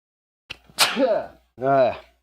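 A sharp sneeze bursts out after a quick inhale, followed by a short voiced sound, close and fairly loud.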